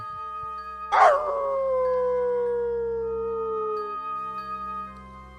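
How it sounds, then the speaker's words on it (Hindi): A single dog lets out a long mournful howl outside at night, rising sharply then sliding slowly downward for about three seconds, clear and alone against a quiet background. "उसे बाहर कुत्तों की रोने की आवाज सुनाई दे रही थी"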